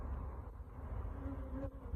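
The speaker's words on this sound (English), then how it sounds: "Well, there are some bees in the box." Honeybees in a hive box in the woods, a low, steady, close buzzing drone with a few passing higher whines, faint and unbroken for a couple of seconds.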